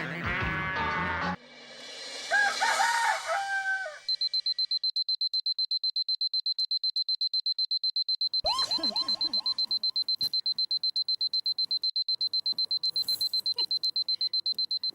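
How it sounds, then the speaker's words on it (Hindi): A steady, high electronic alarm beeps in rapid repetition for several seconds, loud and continuous, with some rustling and brief voices before it starts. "तुम अलार्म लगा देना 5 बजे की"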